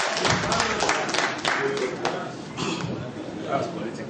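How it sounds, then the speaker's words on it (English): Scattered clapping from an audience greets the presenter at a paper presentation on environmental issues, with uneven hand claps, a few sharp taps and background voices murmuring, fading somewhat toward the end. "let's give our presenter a round of applause"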